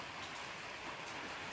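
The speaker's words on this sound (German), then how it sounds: "es regnet in Strömen und es hat auch währenddessen, während Aufbau, Zündung und so weiter, die ganze Zeit ziemlich geregnet" Heavy rain pouring outdoors during a fireworks setup, a steady, even hiss of falling water, faint and continuous throughout.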